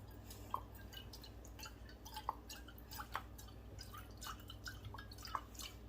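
Fish sauce is poured into a measuring cup for making jeow bong, heard as faint, scattered liquid drips and small splashes in a quiet room, with no talking.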